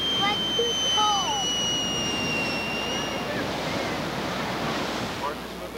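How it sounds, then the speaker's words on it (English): Ocean waves wash onto the shore on a July 4th holiday as a continuous broad hiss of surf with some wind, while high whistling and chirping tones sound over it early on before fading. "Wow, look at those waves."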